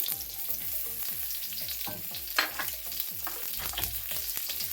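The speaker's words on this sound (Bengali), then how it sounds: "মিডিয়াম আঁচে আমি হালকা করে ভেজে নেব।" Potatoes and raisins fry over medium heat in a pan, a steady crackling sizzle with regular stirring scrapes throughout, close and moderately loud, with no talking.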